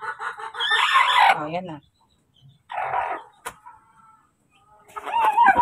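Chickens cluck and squawk in short bursts close by, with a person speaking between the calls.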